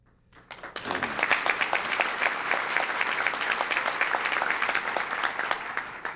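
A luncheon crowd breaks into applause after near silence, building within a second into a full, sustained round of many hands clapping that holds steady to the end, with a faint murmur of voices underneath.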